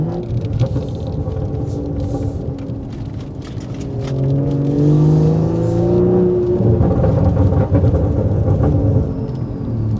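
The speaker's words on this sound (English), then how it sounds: "You'll definitely notice a difference when I go try the hard style burbles." BMW exhaust running a hard style burble tune: a car engine rumbles and revs with rising and falling whirring tones, loud and close and continuous, and no voices are heard.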